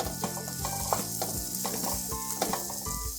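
Onions and tomato sizzle steadily in a pan for a spicy mutton liver fry, with loud, close frying hiss broken by repeated clinks and scrapes of stirring.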